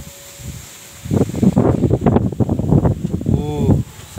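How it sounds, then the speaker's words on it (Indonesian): Strong gusty wind buffets the microphone at an outdoor hut used for long-range spotted-dove hunting, a rough, rumbling roar that swells after a quieter start and keeps churning, with a brief voice near the end. "Seperti angin topan guys."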